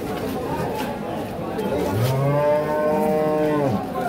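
A Friesian dairy cow lows at a cattle market, two drawn-out moos in the second half over a constant crowd murmur and nearby chatter.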